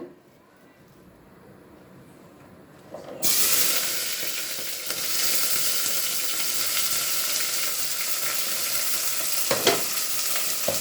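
Shallots and onions sizzle in hot oil after a quiet start, a loud, steady crackling hiss with occasional stirring scrapes.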